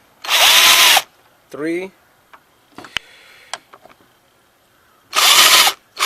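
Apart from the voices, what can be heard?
power drill turning 8mm socket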